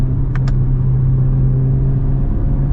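A 2024 Chevy Corvette Z06 engine roars loudly and up close in a steady, deep drone, with a couple of brief higher chirps near the start.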